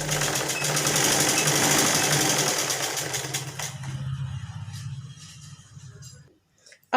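A sewing machine runs a basting stitch along a folded sleeve strip, a loud rapid mechanical buzz that slows and fades into a low hum before stopping, followed by a brief knock.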